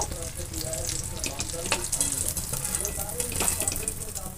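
Chickpeas or dough pieces frying in hot oil in a pan for a dahi chhole recipe, a continuous close sizzle with small spatters and occasional scraping as pieces are turned, no talking.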